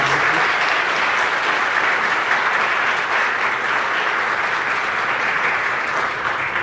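Steady, dense applause from a school assembly audience at a middle school, a continuous wash of clapping hands filling the room with no voices on top.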